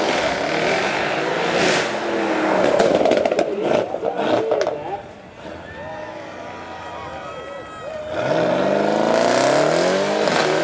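A Mercedes-AMG E63S with a bi-turbo V8 revs hard at a supercar show, its loud crackling engine note rising and falling in bursts, with a quieter stretch before it roars again.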